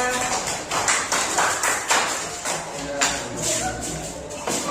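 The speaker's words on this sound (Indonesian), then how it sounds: "Tepuk tangan yang meriah" A classroom of students claps for group 3 after a lesson on animal life cycles, with uneven bursts of hand claps repeating at close range and voices mixed in.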